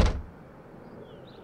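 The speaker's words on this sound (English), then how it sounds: "and shuts the closet door." A closet door is shut with a single short, solid thud at the very start, then quiet room tone follows.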